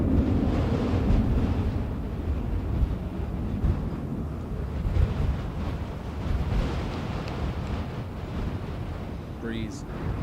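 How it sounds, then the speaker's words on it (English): Wind buffets a microphone outdoors at an airport plane-spotting spot, a loud low rumbling gust noise under ongoing talk, with a faint rising whine near the end. "Breeze, wind should I say, absolutely killing us when we're facing that direction."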